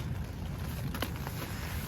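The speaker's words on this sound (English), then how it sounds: "it's blowing a fucking gale outside and it's been raining all night" Strong gale buffets a tent through the night, a steady roar of wind and rain with broadband rumble and flapping, continuous and close, no voices.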